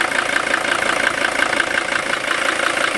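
A Mercedes 300TD diesel engine idles up close with a steady, even clatter and whirring hum, loud and unbroken, with no voices over it.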